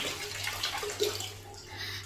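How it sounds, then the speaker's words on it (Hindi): Water runs steadily from a bathroom tap or into a tub, a continuous broadband rush with a low hum underneath, heard alone without talk. "एक मिनट पानी चल रहा है बाथरूम में"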